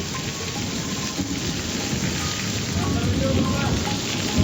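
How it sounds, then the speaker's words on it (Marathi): Heavy rain pours steadily with gusty stormy wind rushing through it, a dense, loud, continuous downpour with no talking. "जिल्ह्यात सर्वत्र वादळी वाऱ्यासह पाऊस बरसलाय"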